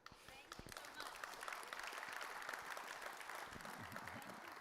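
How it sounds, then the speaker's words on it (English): An audience applauding at a design and construction event, a dense wash of clapping that swells after a brief start and holds steady, with a voice speaking over it near the end. "this was not the applause he deserved"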